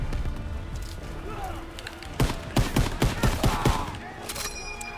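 Gunfire from a Call of Duty battle in a trench, a burst of loud rapid shots in quick succession with smaller shots and battle noise around it, a speaking voice partly over the action.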